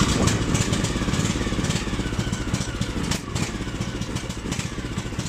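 Irbis Tungus 600LE snowmobile engine runs steadily under throttle, a loud continuous rumbling drone that stays near and fairly constant throughout, with no talk over it.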